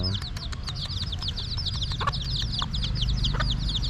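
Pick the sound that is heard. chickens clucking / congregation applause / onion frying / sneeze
chickens clucking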